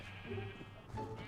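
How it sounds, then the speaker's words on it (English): Sheep in the Minecraft video game give a couple of bleats in the foreground over a busy game soundtrack, one early and one near the end. "you're hitting all the sheep instead of the llama"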